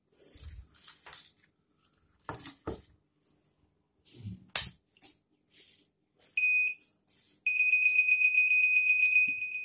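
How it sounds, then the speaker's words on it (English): Scattered handling clicks and bumps, then a loud, continuous high-pitched electronic tamper alarm tone from a fingerprint door access control device starts and keeps sounding. "You can see it is giving alarm because I have tampered this device."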